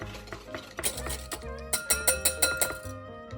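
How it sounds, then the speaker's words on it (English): Whisk clinking against a bowl while mixing lemon juice and honey: close, quick metallic taps in a steady rhythm, the strokes getting sharper and more regular in the second half, with no voices. "Give that a final whisk until it's perfectly smooth."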